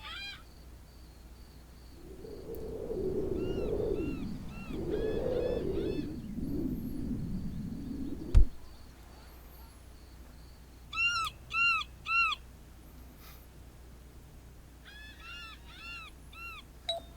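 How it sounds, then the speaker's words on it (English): Birds in a Second Life virtual beach scene called Tierra del Mar, giving short repeated chirps in clustered bursts, first faintly under a low rumbling wash, then clearer and alone in quick groups later on. "We got some nice little birds hanging out here"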